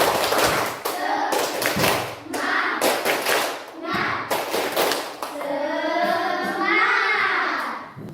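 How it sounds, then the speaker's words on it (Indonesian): Fourth-grade students in a classroom perform a patterned 'tepuk semangat' spirit clap, bursts of rhythmic hand claps and taps alternating with children's chanting voices, ending in a sustained group vocal shout. "mari kita tepuk semangat yang serta. 1, 2, 3, tepuk semangat"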